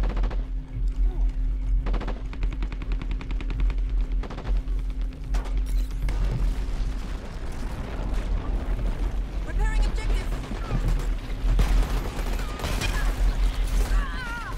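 Rapid bursts of gunfire from the first-person shooter Dirty Bomb, in the open beta, crackle repeatedly over a steady low game rumble, with a player talking throughout.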